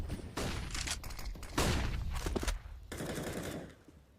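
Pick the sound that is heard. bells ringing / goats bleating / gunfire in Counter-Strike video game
gunfire in Counter-Strike video game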